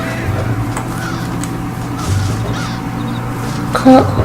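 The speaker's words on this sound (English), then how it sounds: "That was like crows." Crows caw in the video game Red Dead Redemption, a few short calls rising near the end over a steady low game ambience and hum, with voices murmuring faintly in the background.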